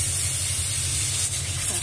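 A pressure cooker hisses steadily and loudly while beef karahi cooks, a constant rushing spray of steam over a low rumble, with no talk.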